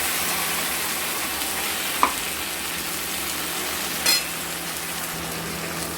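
A ground paste of ginger, green chilli and onion is sautéed in hot oil, giving a soft, steady sizzle with a couple of brief knocks, quiet and without voices.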